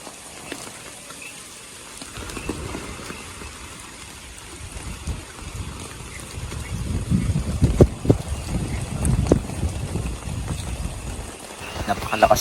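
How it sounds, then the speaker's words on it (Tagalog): Heavy rain and strong typhoon wind at a mountain campsite on Mt. Udok, Maria Aurora, a steady dense roar that swells louder and gustier in the second half, with faint voices beneath. "Napakalakas ng hangin dahil may bagyo at sinasabayan pa ng malakas na ulan."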